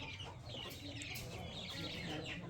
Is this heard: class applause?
no